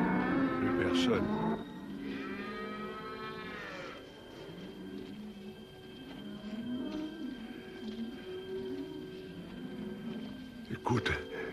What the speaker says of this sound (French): les vaches, elles se remuent.